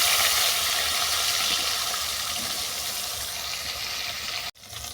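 Rohu fish frying in mustard oil after being flipped, a loud, steady hiss of sizzling close up that eases slightly over time and stops sharply near the end.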